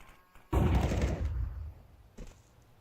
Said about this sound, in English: Throwing flashbang. Flashbang out.